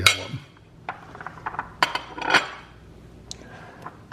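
A baking pan of Italian sausage baked ziti is shifted, giving scattered metallic clinks and knocks, several sharp taps spread across a few seconds, with brief talking.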